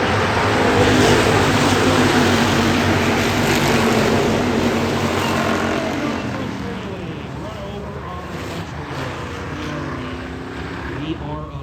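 Hobby stock race cars roar around the Adams County Speedway oval, engines loud and steady as a pack runs three wide down the back straightaway, the roar easing slightly toward the end.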